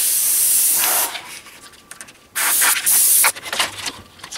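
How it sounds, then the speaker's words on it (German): An airbrush sprays paint onto a Stormtrooper model in short, close hissing bursts, with a first burst, a pause, then two loud blasts and a fainter trailing spray, with no talk. "ich gehe das Gesamtobjekt an und sprühe mal hier und sprühe mal da"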